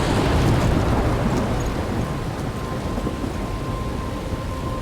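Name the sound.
thunderstorm in the video game Life is Strange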